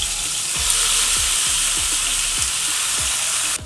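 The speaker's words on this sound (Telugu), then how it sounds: "ఆయిల్ కాస్త వేడెక్కిన తర్వాత ఇందులోనే ముందుగా కడిగి శుభ్రం చేసుకున్నాం కదా ఆ చికెన్ మొత్తాన్ని" Washed chicken pieces frying in hot oil for a smoky angara curry, a strong steady sizzle close up with repeated stirring scrapes at a fairly even rhythm.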